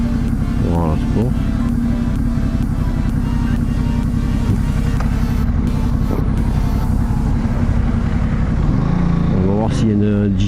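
A Ducati 950 Multistrada motorcycle rides in sport mode, its engine a loud, continuous drone that climbs in pitch briefly near the start and again at the end, while the rider talks throughout.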